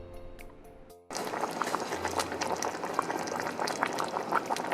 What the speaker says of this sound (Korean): 시머링이란 액체가 끓기 전 온도, 끓기 전 기포가 올라오는 상황을 뜻합니다.